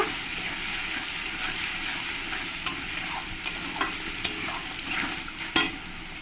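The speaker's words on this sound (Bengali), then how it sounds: "দিয়ে দেবো একটু হলুদ দিয়ে মশলার সঙ্গে মিশিয়ে নেব" Salt and turmeric are mixed into a spice masala in a pan for prawn malai curry, with a steady sizzle under a few soft scraping and tapping stirs, close by and with no speech.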